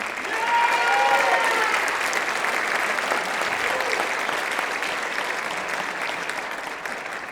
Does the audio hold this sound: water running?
no